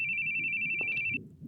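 A phone rings in The Boogie Man video game, a single sustained electronic trill lasting about a second over low game ambience before cutting off.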